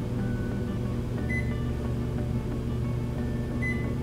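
An LG over-the-range microwave oven running after start is pressed, giving a steady low mechanical hum with faint short beep-like tones, heard alone at close range.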